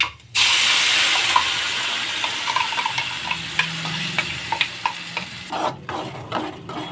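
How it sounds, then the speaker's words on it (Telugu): Peanut and green chilli chutney hits hot oil with a sudden loud sizzle, then keeps frying while a spoon scrapes and stirs the pan in short knocks. It gets steadily busier and louder, with no voices. "ఇవి వేడయ్యాక మనం ముందుగా ప్రిపేర్ చేసుకున్న ఈ చట్నీని ఇంట్లో వేసి"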